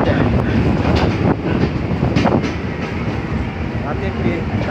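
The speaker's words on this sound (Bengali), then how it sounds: "সঠিক সময়ে স্টেশন থেকে ট্রেন ছেড়ে দিয়েছে।" A night train on a West Bengal line near Kalyani rolls along the tracks, giving a loud, continuous rumble with rattling clatter and wind buffeting close to the microphone.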